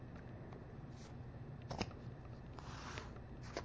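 Scissors snip through wide hair-bow ribbon, cutting a strip in half, with a few soft, close crisp clicks over a low steady background hum.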